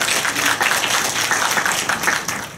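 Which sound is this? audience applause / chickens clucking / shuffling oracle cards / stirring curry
audience applause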